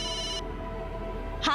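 A telephone rings at night in a TV drama scene, a steady electronic ring that stops partway through, leaving a low background hum before a brief sound at the end.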